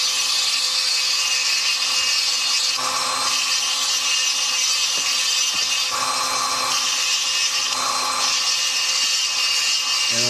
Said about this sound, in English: I'm just smoothing out any abrasions or scratches in the stone